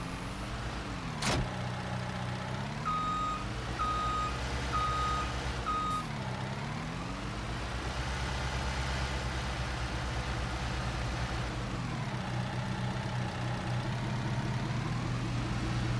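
Skid steer loader in Farming Simulator 19 idles with a steady low engine drone while a repeating reversing beeper sounds in a short series, with a brief loud knock near the start.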